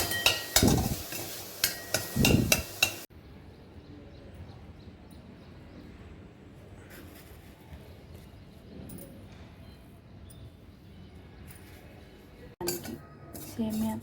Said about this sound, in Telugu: కొబ్బరి బెల్లం వేసుకొని కొంచెం ముద్దయ్యి వచ్చేదాకా కలుపుకుంటూ